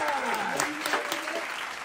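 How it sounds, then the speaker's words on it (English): A round of applause from a small group during a WWE-themed game show, steady and moderately loud, a voice faint beneath it. "Round of applause."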